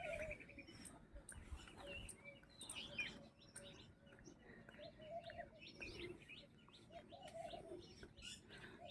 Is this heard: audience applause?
no